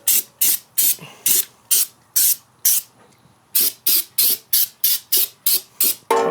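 Wool wax rust coating sprayed from an aerosol onto the frame of a Toyota 4Runner: about fifteen short, loud hissing bursts in an uneven rhythm, each roughly a quarter second long, with a brief pause in the middle and no talking.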